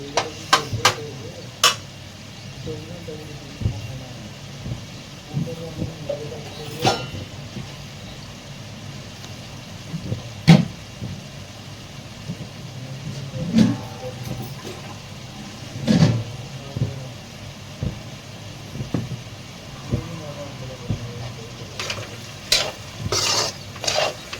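A ladle stirring okra curry in a pan, giving a steady low scraping and sizzling bed with a few sharper knocks against the pan at intervals, close and moderately loud, with no talk.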